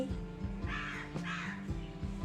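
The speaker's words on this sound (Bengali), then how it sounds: "কাক ডাকছে।" A crow cawing nearby, two harsh raspy calls in quick succession over a low steady background hum.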